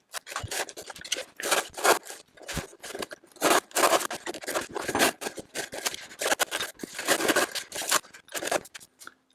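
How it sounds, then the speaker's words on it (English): A hand pull saw cuts through a foam insert in repeated short rasping strokes, fairly quiet and close, with brief pauses between the scraping passes. "I ended up using this pull saw."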